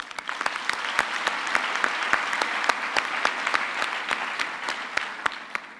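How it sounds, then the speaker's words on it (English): Audience applause at a university graduation ceremony, a sustained wash of many hands with sharp individual claps standing out, steady and fairly loud for the full stretch without speech. "I would like, after that, to request you to give him another round of applause."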